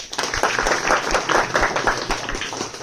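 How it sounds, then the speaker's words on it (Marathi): Children clap together in a classroom, a quick burst of uneven overlapping claps lasting a few seconds, fairly close and loud. "एक साईड टाळ्या वाजवा एकदा"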